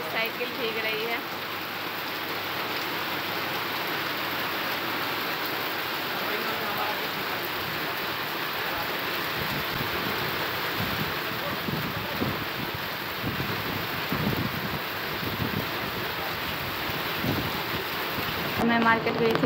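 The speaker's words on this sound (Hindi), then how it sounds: "यहाँ मस्त बारिश हो रही है" Heavy rain pours down steadily in a market area, a dense, continuous hiss with faint rumbles like distant thunder, and a voice speaks intermittently beneath it.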